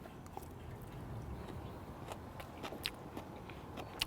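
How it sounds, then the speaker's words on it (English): Biting and chewing into a kimchi apple slaw with cucumber, the crunch coming as a few soft, close bites and chews over a quiet room background. "Let's give it a bite, to see if it needs anything extra."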